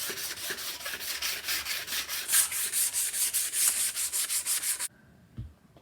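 A hand file rasps a chamfered edge on a metal belt guard for a supercharged motorbike build, with quick, steady, close back-and-forth strokes that stop abruptly near the end.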